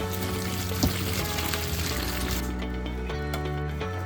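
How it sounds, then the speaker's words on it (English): Spinach blanching in salted boiling water gives a close, continuous bubbling and pouring wash of liquid, with a brief knock partway through and no talking. "add half a tablespoon of salt to boiling water and blanch a handful of spinach"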